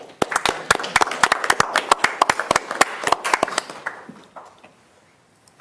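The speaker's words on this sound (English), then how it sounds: "These guys we will clap for" An audience clapping for presenters at a school district presentation, a brisk patter of close handclaps from a small group that thins out and fades to near silence by the end.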